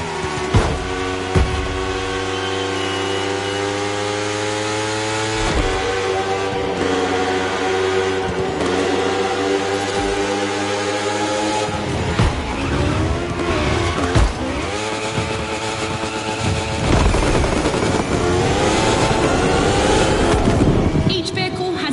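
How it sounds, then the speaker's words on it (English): A rally car races in The Crew Motorfest, its engine loud and close with rising and falling revs, gear shifts and tire noise across the run. "The rally car has already changed its course to reach the dirt."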